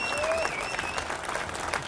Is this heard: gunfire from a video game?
no